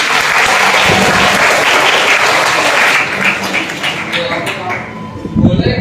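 Students at a junior high school character-building session applaud loudly and densely, a close burst of clapping that fades out near the end as talk resumes.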